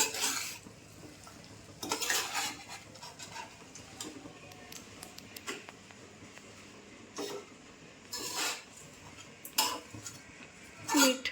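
A utensil mixes dried Bombay duck thecha in a bowl, giving scattered clinks and scrapes in irregular bursts with quiet gaps between them, close and fairly soft.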